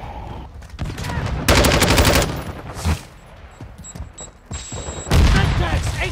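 Automatic gunfire from the Call of Duty: Modern Warfare II video game comes in loud bursts, with rapid fusillades separated by quieter stretches and game voices and radio chatter.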